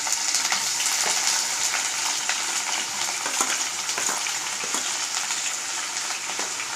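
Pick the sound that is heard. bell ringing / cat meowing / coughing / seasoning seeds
seasoning seeds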